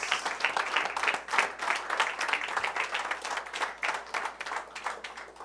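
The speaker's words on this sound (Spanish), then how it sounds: "Un aplauso al Señor de señores" Steady, fairly loud applause from a church congregation at a ministerial meeting, offered to the Lord, with many hands clapping densely and continuously throughout, in waves of slightly rising and falling intensity.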